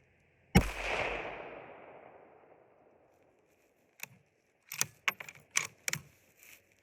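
A single sharp, loud shot from a Ruger American Gen 2 rifle at an outdoor range, its echo trailing off over a couple of seconds, then a run of quick metallic clicks from the action.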